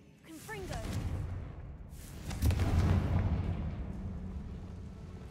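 In Hogwarts Legacy, a Confringo spell bursts into a fiery explosion: a low rumbling blast swells, then a second heavier boom follows and fades into a rolling tail, with game effects around it.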